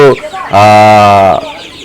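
A Tiger breed chicken on a poultry farm gives a short cluck, then a loud, drawn-out squawking call up close.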